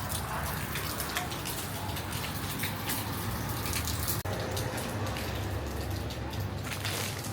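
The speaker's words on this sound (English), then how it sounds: "Look how heavy the rain is." Heavy rain pouring outside a McDonald's in Australia, a dense continuous hiss of drops hitting surfaces close by, with a brief dropout midway before the downpour resumes.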